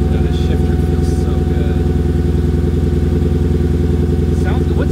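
A Mercedes C55 AMG V8 with its exhaust cut off just before the differential idles loudly and steadily, a rough, throbbing close-up rumble with faint clatter, while people talk nearby.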